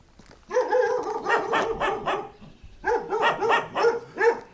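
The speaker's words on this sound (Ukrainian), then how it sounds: "тільки гавкають собаки" A dog barks repeatedly in quick bursts, two volleys of sharp, close barks separated by a brief pause, in a war-damaged village in Kherson region, Ukraine.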